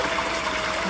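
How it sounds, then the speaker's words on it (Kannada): Spring water at the Ranganatha temple near Hassan flowing forcefully in a steady, loud gushing rush, heard up close and without talk. "ಇಷ್ಟೇ ಫೋರ್ಸಲ್ಲಿ ಬರ್ತಿರುತ್ತೆ ಯಾವಾಗಲೂ ನೀರು?"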